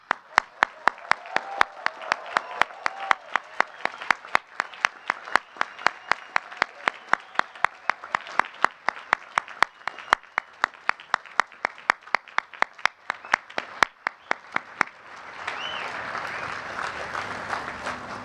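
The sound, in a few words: applause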